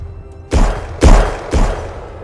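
Three heavy gunshots ring out as a sound effect in a true-crime narration, each a loud booming blast spaced about half a second apart and standing alone without talk.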